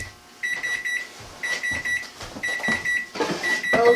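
A high electronic oven timer beeps in repeated short bursts with brief pauses between, fairly close, alongside some faint kitchen clatter.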